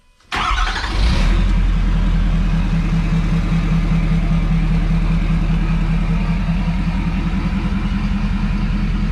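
Ford F550 truck with a 5-inch exhaust cranking and starting, then holding a loud, steady, deep idle rumble close by for several seconds without talk.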